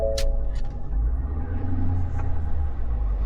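A Ford truck's engine rumbles low and steady as the truck pulls out, with a continuous deep drone and a few faint clicks over it, and no voices.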